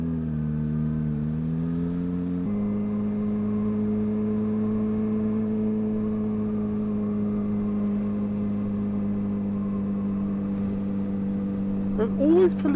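Motorcycle engine droning steadily while riding, a low hum that dips and holds at an even pitch under wind noise, with a faint burst of other sound near the end.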